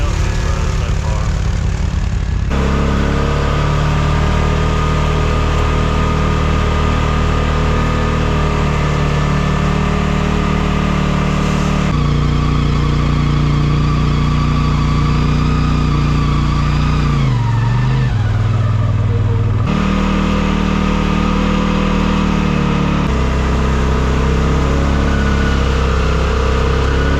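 A 2022 CFMoto CFORCE 500 ATV engine droning loud and close while riding, rising and falling in pitch with throttle changes and gear shifts, a dip and surge around the middle, with voices speaking over it at times.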